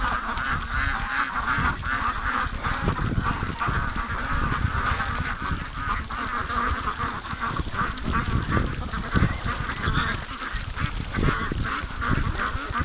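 Ducks calling in a continuous chorus of honks and quacks, steady and moderately loud, with a busy outdoor background.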